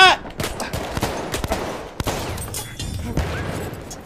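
Gunfire in the video game Battlefield 1, a string of sharp shots at irregular intervals over a steady background of game noise, with the first crack loudest.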